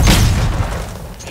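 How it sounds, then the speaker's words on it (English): A single heavy grenade blast in Call of Duty Modern Warfare, a loud, close, low boom that rolls off over about a second, with no talk. "Throwing grenade."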